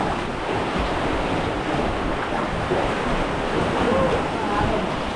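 Sea waves wash onto a beach in a steady broad roar, with wind buffeting the microphone and faint voices of people swimming nearby.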